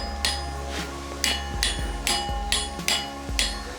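Torque wrench clicks while tightening flywheel bolts on a rebuilt Mitsubishi Lancer Evolution X engine in a garage, about six sharp, evenly spaced metallic clicks, close and loud.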